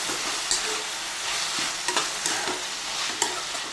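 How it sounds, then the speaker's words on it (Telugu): Cut tomatoes frying with chicken masala in a pan for dhaba-style chicken curry, producing a loud, dense, continuous sizzle close by, punctuated by a few spoon scrapes and taps as it is stirred. "ఇదంతా ఇప్పుడు ఫ్రై చేసుకుందాం"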